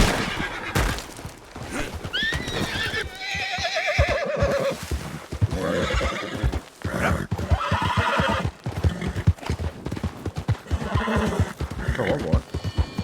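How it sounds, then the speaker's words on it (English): Horse neighs and whinnies ring out over rapid clip-clopping hooves in the Red Dead Redemption 2 video game, loud and close, with a voice talking through parts of it. "Maldito caballo, tío."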